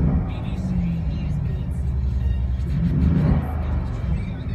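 A matte Mercedes-AMG G63 engine running at a steady idle nearby, a continuous low rumble that swells slightly near the end.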